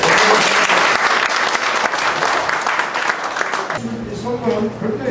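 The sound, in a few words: applause at election event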